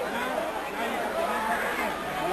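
Boxing arena crowd just after a knockout, a steady murmur of stunned chatter and hubbub filling the hall beneath a commentator's voice.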